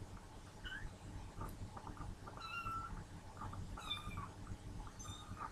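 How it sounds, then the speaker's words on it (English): Kittens meowing indoors, several thin high-pitched mews scattered irregularly, fairly faint over a low background rumble. "Sorry, I got kittens."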